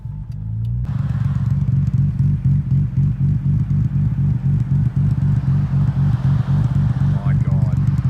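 A Nissan GTR engine idles loudly and steadily nearby, a deep, even rumble with a faint rhythmic pulse throughout.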